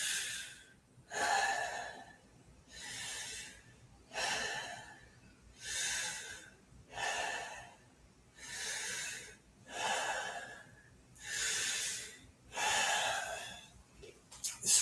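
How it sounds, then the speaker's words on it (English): During a yin yoga session for jiu-jitsu recovery, a person breathes deeply and audibly close up, each long breath separated by a short pause, about eight even breaths in a slow, steady rhythm. "Keep breathing."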